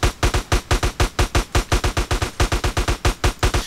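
Gunfire in GTA San Andreas (a DYOM mission) rips out as a steady automatic burst of about thirty evenly spaced, punchy shots in under four seconds, loud and up front, with no talking.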